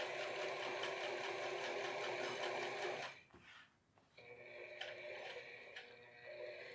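A sewing machine stitches around a jeans zipper, whirring steadily and close for about three seconds, pausing briefly, then running again at a quieter, ticking pace.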